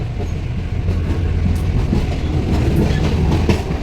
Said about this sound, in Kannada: ಭಯಂಕರ ಸ್ಪೀಡ್ ಇದೆ ಟ್ರೈನ್